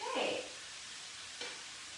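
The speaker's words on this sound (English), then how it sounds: "I just want these to cook slowly in the ghee." Onions cook slowly in ghee with a soft sizzling hiss, briefly stirred, with a short voice at the start.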